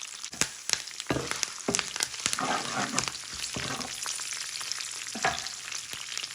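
Dried red and green chillies fry in hot oil in a pan, crackling and sizzling up close with sharp pops and bursts of stirring, and no one talking.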